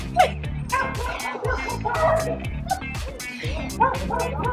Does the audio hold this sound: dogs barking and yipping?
yes